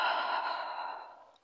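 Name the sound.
exhaling breath during Pilates breathing exercise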